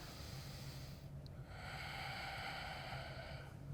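A slow yoga inhale drawn in through the nose, a steady breathy hiss that swells after a brief pause and holds for a few seconds, close and fairly quiet with no talking.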